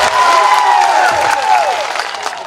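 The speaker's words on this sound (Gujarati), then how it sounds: "પોલીસ માટે એકવાર જોરદાર તાળીઓ પાડી લો." A large crowd at a public rally in Kwant, Chhota Udepur, applauds loudly for the police. The clapping is dense and sustained, with a few raised voices mixed in, and it eases slightly toward the end.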